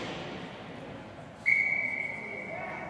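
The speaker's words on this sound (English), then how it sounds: "the referee's going to blow the whistle and get the players here back to center" A referee's whistle at a U15 youth lacrosse game gives one sharp, sustained shrill blast that fades out over a low hum of crowd and field noise.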